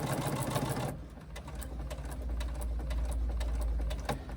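Sewing machine sewing across fabric for a sling at its longest stitch length, with a brief loud burst at the start followed by a slower, steady chugging with soft ticking and a low hum underneath.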